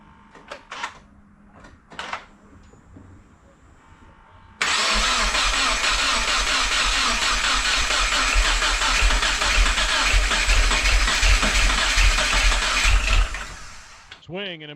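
A Subaru WRX fitted with a new short block cranks briefly, then starts and runs with a loud, steady mid-pitched roar for about nine seconds before cutting off. Quieter clicks and handling noises come first.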